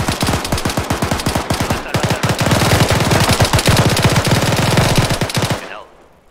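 Heavy machine-gun fire in a military video game, loud rapid bursts of shots in a fast steady rhythm that merge into a dense continuous barrage before cutting off abruptly.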